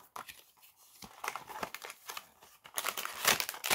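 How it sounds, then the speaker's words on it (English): Blind box packaging for vinyl mini figures being cut and torn open, a close run of crinkling plastic and paper rustles that grows louder and busier toward the end, with no talking. "Cut it open."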